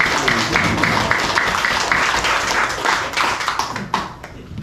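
An audience at a health lecture claps in a quick, fairly even rhythm, a close, lively patter of many hands that breaks off briefly near the end.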